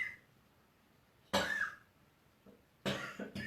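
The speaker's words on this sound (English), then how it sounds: "if you hear some coughing in the background" Two bursts of coughing from a woman in the background during a quiet yin yoga session, the first a single harsh cough and the second a short cluster of coughs about a second and a half later.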